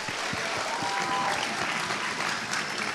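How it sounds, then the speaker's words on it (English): Steady applause from an audience at a school spoken word event, honoring the English department; dense, even clapping fills the whole stretch without a break. "can we please give a round of applause to the whole English department for organizing this event?"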